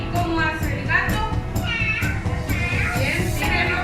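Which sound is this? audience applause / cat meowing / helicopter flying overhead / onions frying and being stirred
cat meowing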